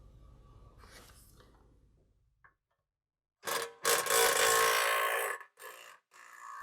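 A car's skid plate being pulled down during an EVAP canister replacement, with a short knock followed by several seconds of loud scraping and rubbing in bursts, close and without talk.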